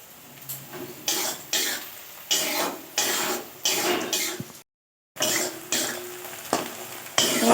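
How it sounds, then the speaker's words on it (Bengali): Onions sizzling and frying in a pan, with a steady crackle broken by regular stirring or scraping strokes and one short silent gap. "পেঁয়াজ ভাজতে দিয়েছি"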